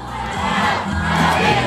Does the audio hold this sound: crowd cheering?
yes